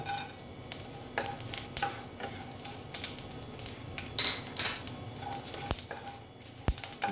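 Whole garam masala spices frying in a little oil in a pan, a soft steady sizzle under repeated clinks and scrapes of a spoon against the metal pot, with a couple of sharp knocks near the end.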